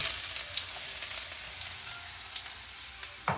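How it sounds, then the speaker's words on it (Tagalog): Ginger sautéing in hot oil in a pan, a steady bright sizzle with small crackles and pops, close and continuous with no voices. "Una muna ito, gigisahin natin yung luya."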